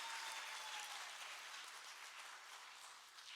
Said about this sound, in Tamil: அவங்களுக்கு மீண்டும் ஒரு முறை பலத்த கைத்தட்டல்கள் வழங்குமாறு அன்போடு கேட்டுக்கிறோம்